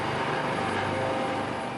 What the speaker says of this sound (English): U.S. Coast Guard helicopters flew over a touching dedication.